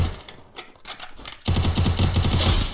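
Gunfire in a video game shooter played on a phone with a modified Panda Mouse: sparse shots at first, then dense rapid bursts of automatic fire, loud and close, with no talk.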